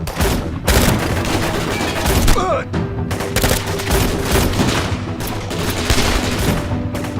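Gunfire in a Turkish TV drama, a loud, near fusillade of rapid machine-gun bursts and single shots layered over a dramatic music bed, with voices briefly heard amid the shooting.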